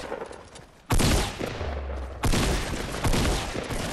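Gunfire in the video game Fortnite Battle Royale, with several loud, close shots in separate bursts, each trailing into a reverberant rumble.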